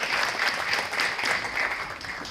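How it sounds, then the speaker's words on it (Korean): An indoor conference audience claps steadily to welcome a speaker, a dense, even patter of applause with no voices over it. "박수로 맞이해 주시기 바랍니다"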